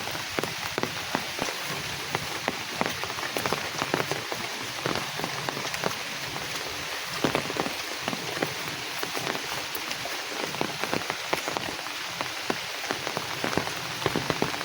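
Steady, dense rain patters onto a brimming village pond on a wet day, countless close drops hitting the water in an even, unbroken hiss with no voices.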